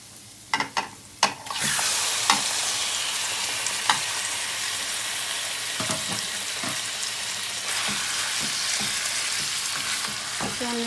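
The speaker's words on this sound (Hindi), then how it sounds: "इसे हमने अच्छी तरह फ्राई करना है।" Chicken pieces fry in a pan for chicken karahi with a loud, steady sizzle. A few sharp clatters of stirring come at the start, and scraping stirs recur now and then under the continuous hiss.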